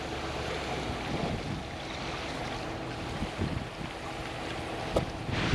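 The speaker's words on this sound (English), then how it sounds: "These people are trying to get their boat off the water quick." Steady wind buffets the microphone over choppy water on Skilak Lake, Alaska, with a low boat-like rumble and occasional splashes or knocks near the end.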